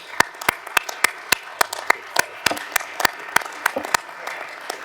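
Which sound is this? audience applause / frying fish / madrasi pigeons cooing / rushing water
audience applause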